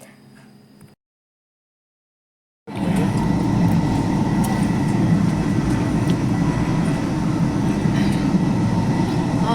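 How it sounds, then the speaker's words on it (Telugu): A train travels on the way to Puri. After a brief quiet gap, a loud, continuous rumble of wheels and carriages sets in and stays steady to the end. "ట్రైన్ వచ్చేసింది"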